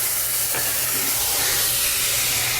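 A tablespoon of water hits a hot sauté pan with browning vegetables in a plant-based home kitchen and gives off a steady, loud hiss of sizzling steam that holds for a couple of seconds without any talking.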